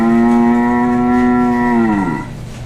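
An animatronic cow in a dairy store gives one long, loud moo. The call is steady and deep, drops in pitch near the end and then fades, and no one talks over it.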